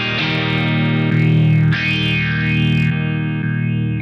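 Electric guitar played through a BIAS FX amp-modeling rig with a phaser emulating the MXR Phase 90, sustained distorted chords with a slow sweeping swirl, restruck a few times, loud and alone with no talk.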